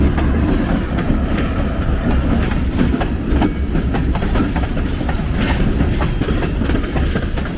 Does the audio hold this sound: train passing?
yes